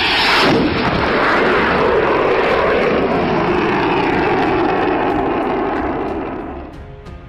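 A jet aircraft flies low overhead with a loud, roaring rush that holds steady, then fades away at the end, with no talk.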